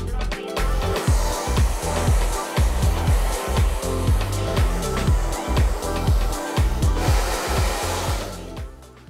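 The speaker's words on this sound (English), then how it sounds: "if you're drying your hair with a hairdryer" A hair dryer blows continuously close by, with a steady rushing whoosh broken by rhythmic low thumps as the airflow is moved around.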